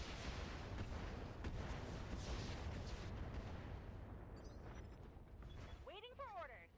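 Incendiary artillery strike in the mech strategy game Roguetech, a sustained rumbling roar of distant shelling and fire that fills the scene, softening toward the end as a chirpy electronic game sound rises.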